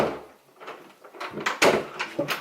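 A master bedroom door that no longer fits its frame is worked back and forth, giving a run of close scuffs, knocks and rattles that grow louder toward the end.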